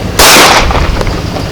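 A single loud pistol gunshot at an outdoor shooting range, a sharp close crack with a short echoing tail.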